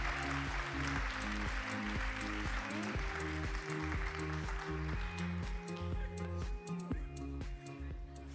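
An audience applauds during an official photo at a thesis-presentation final ceremony, with steady clapping over loud music whose strong, rhythmic bass and tonal chords carry through the whole stretch.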